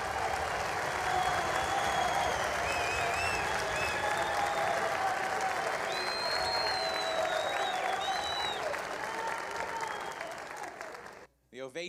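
Sustained audience applause and ovation following a live jazz song at a tribute concert, a dense, continuous roar of clapping with a few scattered whoops, loud and full, fading out at the very end.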